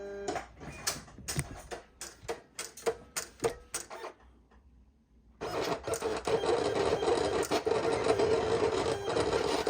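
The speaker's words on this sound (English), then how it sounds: "The information gets sent to the cutter, and here we go." A vinyl cutting machine cutting a shirt design starts with a series of quick clicking carriage moves, goes quiet briefly, then settles into a steady, close whirring drone of motor and blade travel.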